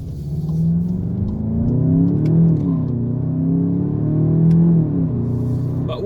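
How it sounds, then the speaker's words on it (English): A 2019 VW Jetta GLI 35th Anniversary Edition's 228-horsepower 2-liter turbo engine with a 7-speed DSG pulls hard under acceleration, a steady, loud rumbling drone that rises and dips through the gears, heard from inside the car. "I just love the power that this 228 horsepower engine, 2-liter turbo engine gives you."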